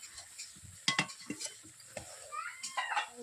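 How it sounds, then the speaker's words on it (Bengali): Fish jhal curry with salted nona fish and onion is served out of a wok, a metal spoon clinking and scraping against the pan in a few sharp knocks, fairly close, with soft rustling between. "এরপর কড়াই থেকে আমি এখন নামি"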